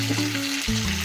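Ribeye steaks sizzle in a cast iron pan turned up to high heat, a short, close, continuous hiss of searing meat.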